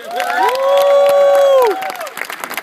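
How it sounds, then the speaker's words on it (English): A meeting crowd bursts into cheering and whooping with applause, loud and close, with sustained shouted voices swelling for about two seconds and then fading into scattered clapping. "give yourselves a round of applause for that"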